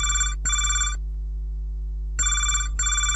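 An incoming call rings at a radio station in Betul, with two pairs of bright electronic ring bursts separated by a pause over a constant low hum.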